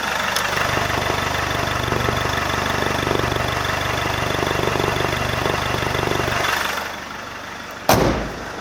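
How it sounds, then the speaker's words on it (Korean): An engine idles steadily with a low, even rumble, close by, before it quiets and a sharp knock is heard near the end. "엔진은 들려드릴게요"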